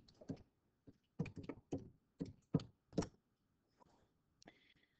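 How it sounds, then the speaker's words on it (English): Quick taps on calculator keys while entering numbers, about a dozen short clicks in uneven clusters, close and fairly quiet, with no talking. "Type it in our calculator."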